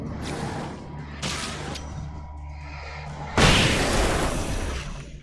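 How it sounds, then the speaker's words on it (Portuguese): Grenade blast in the Alan Wake video game: two dull booms close together, then a loud, broad explosion that rumbles and fades over a couple of seconds, with no talk. "Deixa eu chegar mais perto que eu uso uma granada só."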